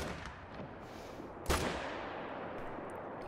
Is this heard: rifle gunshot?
yes